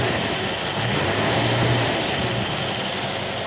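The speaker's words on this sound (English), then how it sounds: "Can you hear the raspy nature of this mechanical lifter engine?" A 1967 Ford Mustang K-code with a mechanical lifter engine idles steadily, giving a raspy mid-pitched rumble with a faint ticking edge. It stays fairly loud and continuous throughout, with no voices.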